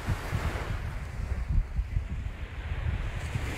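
Ocean waves wash onto a beach in Lisbon, a steady low rumble of surf mixed with wind buffeting the microphone, with no voices over it.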